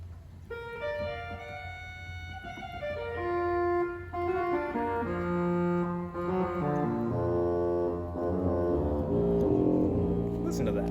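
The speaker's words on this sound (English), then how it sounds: "And then an 8-foot basson, which is so beautiful." A pipe organ's 8-foot bassoon stop plays a slow, sustained line of reedy, buzzy tones rich in overtones, notes stepping downward and building into fuller held chords, steady and moderately loud in a resonant space.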